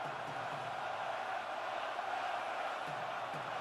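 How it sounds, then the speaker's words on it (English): A hockey arena crowd before an Edmonton Oilers versus Vancouver Canucks 2024 NHL playoff Game 7, a steady, distant roar of many voices filling the building. "Listen to that crowd."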